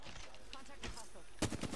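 Gunfire in an Apex Legends 3v3 arena match: soft scattered shots early on, then a sharp, loud close burst of rapid automatic fire near the end.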